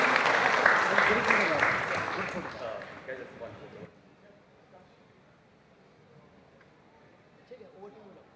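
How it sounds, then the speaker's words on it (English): A burst of clapping from a conference crowd at a summit main stage fills the first few seconds, then fades away into quiet room tone with a faint voice. "Big round of applause for yourselves."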